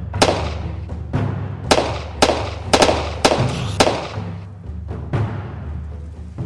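Sharp gunshots ring out in the zombie video game The Dead Inside, roughly eight loud, separate bangs at irregular intervals with brief echoing tails over a low background hum.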